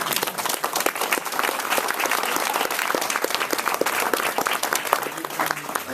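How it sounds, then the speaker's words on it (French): Warm audience applause for the Chambray team at a photo exhibition speech, many hands clapping densely and continuously at a steady level, with little talk. "Donc je voudrais applaudir l'équipe de Chambray."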